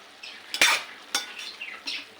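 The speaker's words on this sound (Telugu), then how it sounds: "ఈ సాసులన్నీ ఈ మంచూరియాకి పట్టేటట్లుగా కొంచెం ఇలాగా కలిపేసుకుందాం మంచిగా" Veg manchurian balls, fried beforehand, being stirred into sauce in a pan, giving a few soft scraping and clinking spoon strokes at an uneven rhythm, close and fairly quiet.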